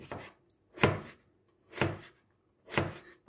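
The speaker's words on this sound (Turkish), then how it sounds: "o taraftan şöyle ince ince kesmeye çalışıyoruz" A knife slices thin rounds of red beetroot on a cutting board for şalgam pickle, four separate chopping thuds at a slow, steady pace, close and clear with no speech.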